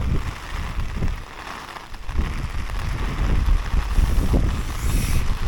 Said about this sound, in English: It is actually raining so hard.